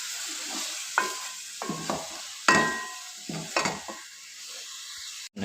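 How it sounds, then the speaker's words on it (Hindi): Masala roasts in a pan for an aloo anda recipe, sizzling under a run of distinct scraping stirs and clinks of a spoon against the pan, close and fairly loud, with no talk. "अब हम मसाले को अच्छी तरह से भून लेंगे"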